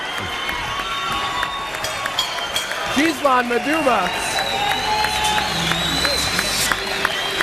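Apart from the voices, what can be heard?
boxing crowd cheering and applauding in Gatineau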